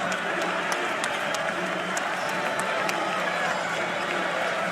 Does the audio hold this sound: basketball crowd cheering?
yes